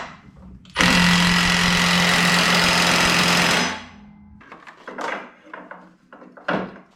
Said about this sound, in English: I'm gonna get the rattle gun on this side and put a ratchet underneath and tighten it up nice and tight